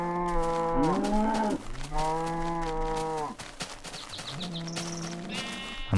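Minecraft cows moo several times, with long, drawn-out lowing calls that rise and fall, loud and close. A fainter, higher call follows after a short gap, and there is no talking.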